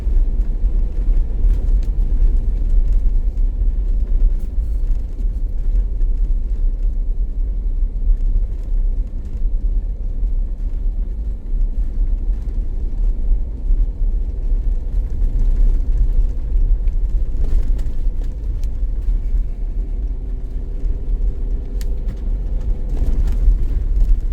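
A vehicle crawls along the Rimrocker off-road trail, a 166-mile route, with a continuous low engine rumble and road noise, steady and moderately loud, with occasional faint rattles and bumps over the terrain.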